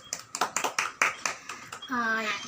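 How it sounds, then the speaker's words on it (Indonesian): A short burst of quick, rhythmic clapping from a small group of students in a classroom, followed by a voice. "Bagus buat Ega, tepuk tangan."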